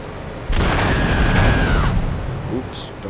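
A video game explosion in GTA III bursts in as a loud, sustained roaring boom with a ringing tone over it, fading out after about a second and a half.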